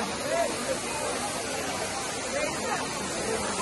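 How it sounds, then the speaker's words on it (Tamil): Water pours down heavily in a continuous broad roar at Kutralam Main Falls, with faint crowd chatter mixed underneath. "தண்ணி நல்லா கொட்டுது சூப்பரா பாருங்க"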